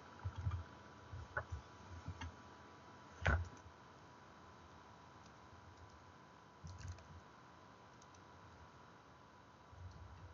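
Sparse keyboard clicks, a few isolated taps and short bursts of typing spread across a quiet room with steady background hiss.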